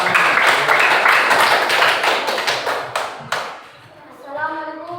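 A classroom group claps hands together in quick, fairly loud bursts for a few seconds before fading, after which a voice begins speaking.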